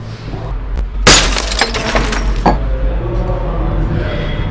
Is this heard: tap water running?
no